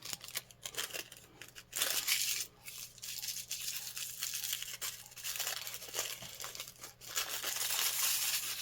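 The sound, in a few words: crinkling silver material for mixed media art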